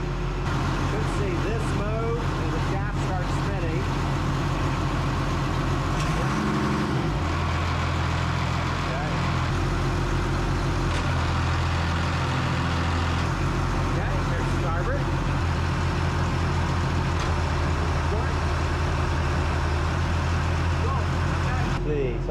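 Boat engines idling steadily as they warm up, a constant low droning rumble with a brief shift partway through, close and loud with people talking over it.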